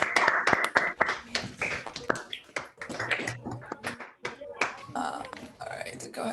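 Scattered clapping from participants in an online academic physics meeting after they unmute, uneven bursts of taps and claps from several microphones mixed with background talk.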